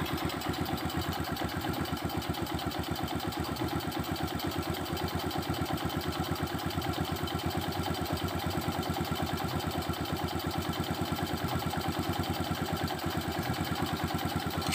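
A carbureted motorcycle engine idling steadily with the throttle released, a close, loud, even rapid chugging pulse that holds a constant rhythm throughout with no speech.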